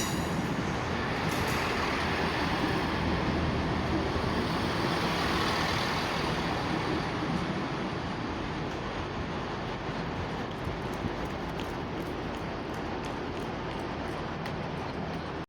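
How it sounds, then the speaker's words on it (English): East Midlands Railway diesel train at Nottingham station, a steady broadband rumble and roar close by that holds level throughout, with no talk over it. "I think coming now we see the 1329 East Midlands Railway service to Lincoln Central."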